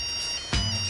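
A mobile phone ringtone sounding in a quiet room, heard as steady high tonal lines through the whole moment, with a brief louder burst midway and a low hum settling in after it.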